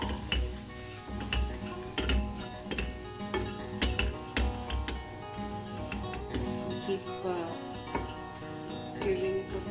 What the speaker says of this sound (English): Stirring it for some time till it gets fried, maybe say half fried.